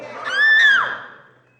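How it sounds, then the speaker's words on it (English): A girl's short, high little scream in an audio drama of Alice in Wonderland, one rising and falling cry heard close and alone. "Alice gave a little scream as she tried to fight them off."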